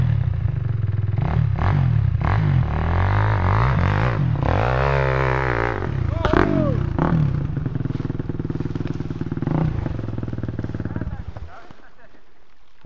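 A motorcycle engine sputters and revs after being kick-started, loud and close, with clattering and a shouting voice over it before the engine fades toward the end.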